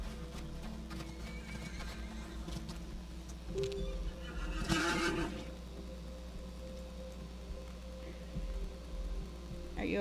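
Horses in the video game Equinox: Homecoming whinny and snort over steady clip-clopping hooves and a low ambient hum, with a louder neigh midway through.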